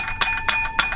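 A small metallic bell rings three times in quick succession, each bright ding lingering with a shimmering tone, loud and close with nothing else around it.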